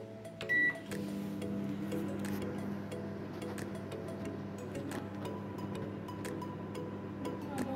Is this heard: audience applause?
no